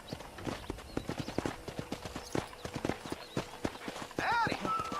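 Horse hooves clip-clop steadily in Red Dead Redemption, a run of distinct hoofbeats up front while a voice speaks over them and a brief whinny-like call rises near the end.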